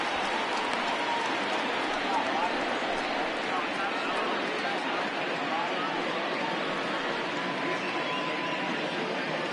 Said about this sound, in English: the rain's starting to intensify here. It's coming down a little heavier now